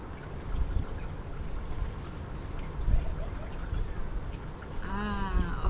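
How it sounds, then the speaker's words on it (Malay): Freshly boiled hot water pours into a container of crushed Mexican mint leaves, a continuous close splashing stream that ends in a rising gurgle as the vessel fills. "Kemudian letak air panas. Selok-seloknya air panas yang baru masak tu lah"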